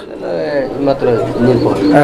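Pigeons coo in low, rolling, repeated calls close by in a loft of colored Rajgolla pigeons, continuous over about two seconds, with a voice talking alongside.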